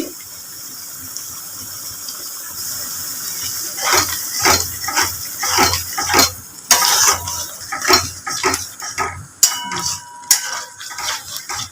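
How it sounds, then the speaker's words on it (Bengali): Yogurt stirred into a Kashmiri-chili masala in a pan for Bengali-style butter chicken, with a steady sizzling hiss under repeated spoon scrapes and clinks against the pan, close up, with no voices. "এবার আমি দইটা দিয়ে দিচ্ছি"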